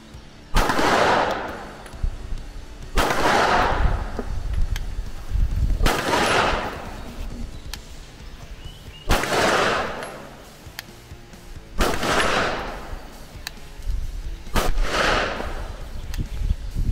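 Six loud Walther P99 pistol shots fired at a target, spaced about three seconds apart, each a sharp crack followed by a lingering echoing decay.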